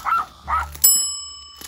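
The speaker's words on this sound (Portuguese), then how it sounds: "Alguém bota esse cachorro pra fora!" A house dog barks twice in quick, loud yaps, followed by a sharp metallic ring, in an indoor home setting.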